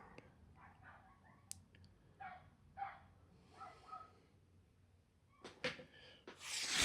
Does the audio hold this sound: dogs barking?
yes